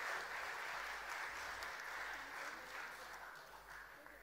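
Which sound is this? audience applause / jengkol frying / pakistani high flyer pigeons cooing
audience applause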